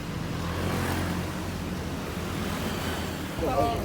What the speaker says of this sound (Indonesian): bis kita akhirnya berangkat juga